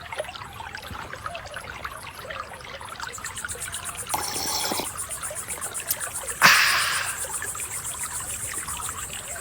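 Water trickles and splashes at a spring in the video game Rosewater as a character drinks, two brief bursts of pouring liquid over a faint steady ambient bed, the second sharper and fading slowly.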